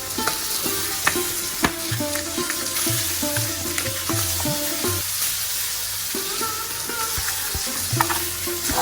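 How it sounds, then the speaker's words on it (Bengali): Rohu fish frying in a pan, a steady close sizzle with clinks of a utensil turning the pieces, heard without talk. "তো মাছটা আমি এখন উল্টিয়ে দিব, দেখেন এইভাবে লাল লাল করে আমি ভেজে দিচ্ছি।"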